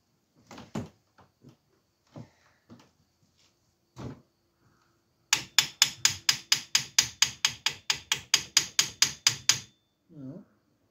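A hammer bangs on metal while Peugeot 205 XTD driveshafts are replaced: a rapid, evenly spaced run of about twenty loud strikes, preceded by scattered clanks and knocks.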